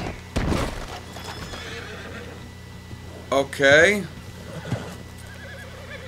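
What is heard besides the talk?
horse neighing in video game Red Dead Redemption 2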